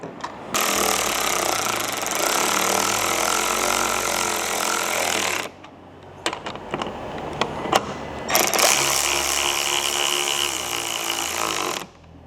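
A power tool whirs loudly in long bursts while tightening roof rack bolts on a Toyota Tacoma, stops for a stretch of scattered clicks and knocks, then runs again before cutting off.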